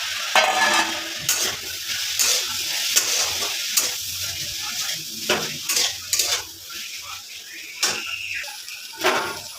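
An egg fries in a pan with a steady, bright sizzle, broken by frequent close clinks and scrapes of a utensil stirring against the pan.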